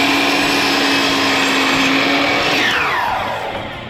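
Compound miter saw cutting crown molding for kitchen cabinets, a loud close motor whine that drops in pitch as the blade slows at the end.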